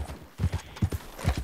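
Horse hooves clip-clop in Red Dead Redemption 2, a few close, loud paired hoofbeats in an uneven gait over a short stretch.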